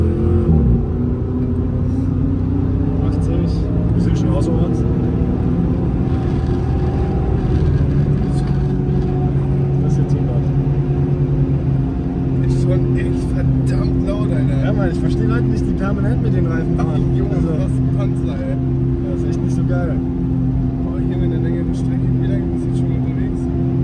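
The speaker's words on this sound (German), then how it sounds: "Willst du es mit Vollgas oder willst du entspannt hochbeschleunigen?" Jeep Grand Cherokee 4.7 V8 on mud tyres pulls away under steady acceleration, a deep continuous engine drone and rumble rising gradually in pitch over about 24 seconds, loud and close from inside the cabin with road noise.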